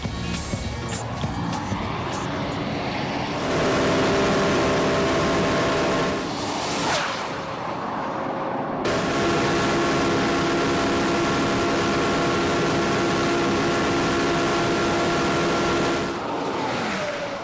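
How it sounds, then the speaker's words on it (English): A Porsche Carrera GT at top speed on the Nardo track: a loud, sustained high-pitched engine whine over roaring wind and road noise, pitch dropping briefly at the gear changes before climbing again. "The first time around the track, the Carrera GT hits 328, just undercutting the factory specifications by 2 kilometres per hour"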